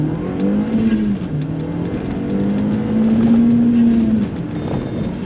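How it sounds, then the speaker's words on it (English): Audi TT 225 Quattro accelerating hard from a standstill in a 0-60 mph run, engine note rising steadily through the gears with loud, close revving and tire noise, no talk. "So we're going to go again."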